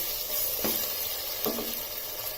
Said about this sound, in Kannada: ಇವಾಗ ಚಿಕನ್ ಬೇಯ್ತಾ ಇದೆ